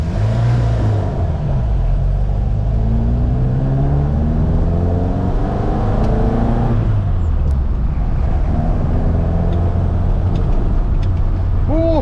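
A Ford Mk1 Escort rally car engine drones loudly from inside the cabin while driving, with rising and falling revs across gear changes and a steady heavy low rumble throughout.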